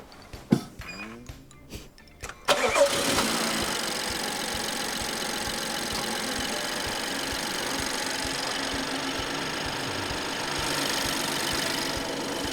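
A few sharp clicks and cranks, then a BMW X6 engine catches and settles into a steady, loud idle that continues evenly to the end.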